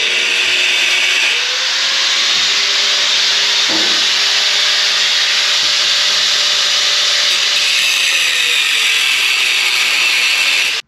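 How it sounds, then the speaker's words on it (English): Drilling holes through a winch plate mount frame on an Arctic Cat Prowler 650, a loud continuous grinding whine with steady pitch and a few brief knocks, alone without talk. "so I got to drill these 2 new holes in order to get the bolts to go through that frame"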